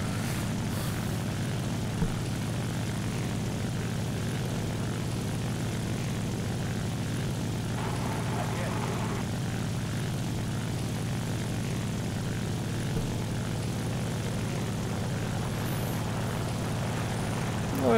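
Propeller plane engine in a flight combat game, a steady, fairly quiet droning hum with a low throbbing tone that runs unbroken for the full length, minor fluctuations as the aircraft maneuvers, and no voices present.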